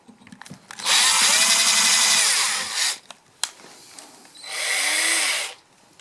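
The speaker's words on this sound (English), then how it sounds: "let's drill." On a double-neck guitar build, a power drill whirs in two loud bursts with pitch sliding up and down as it drills holes, separated by a short pause with clicks and handling noises.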